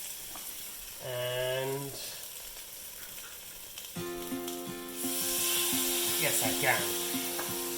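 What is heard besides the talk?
Andhra chili fish fillets sizzling as they fry in a pan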